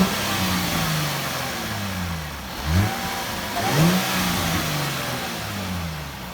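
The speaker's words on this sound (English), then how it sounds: "give it a quick rev so you might be able to hear a little bit of whine from the supercharger" A Jaguar F-Type V6 S sports car engine revving briefly from idle, with a faint supercharger whine; the revs swell twice, moderately close and without speech.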